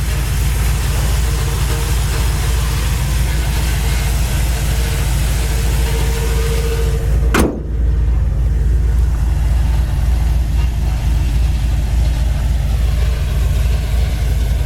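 A 1972 Chevelle SS engine idles steadily and loudly with a deep, even rumble, broken only by a brief sharp click midway before the idle carries on unchanged.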